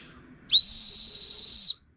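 A plastic whistle gives one steady, loud, shrill blast of about a second, starting sharply and stopping cleanly, close up with no talking.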